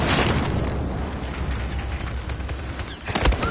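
A grenade blows up in Battlefield 4 with a dense, roaring boom that fills the whole moment, followed by crackling debris and a second sharp burst near the end.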